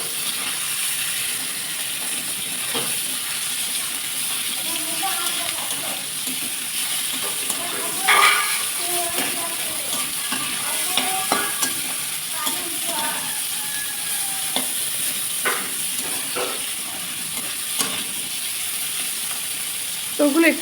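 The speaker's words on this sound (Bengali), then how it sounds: "চিংড়ি মাছগুলো একটু ভাজা ভাজা করবো" Shrimp fry in hot oil with a steady crackling sizzle, punctuated by occasional sharper pops and spatters, close by and continuous.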